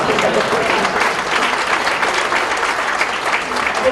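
A crowd claps loudly and continuously at a stage show, a thick steady wash of applause filling the room with no pauses.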